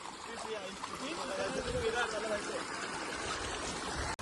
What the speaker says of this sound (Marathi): वॉटरफॉल बघा आता